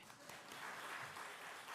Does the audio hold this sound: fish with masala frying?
no